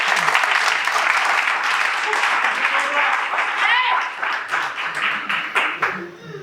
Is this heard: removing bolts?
no